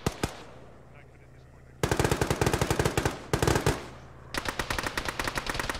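Gunfire in a ShackTac military video game session: dense bursts of rapid automatic fire, loud and close, coming in several long strings separated by brief pauses.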